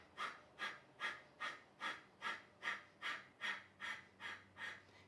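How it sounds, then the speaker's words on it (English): Yoga fire breath through the nose with lips sealed: eleven quick, forceful exhalations in a steady, even rhythm, close and fairly soft. "if you're sealing the lips closed, and only through the nose, then it's fire breath"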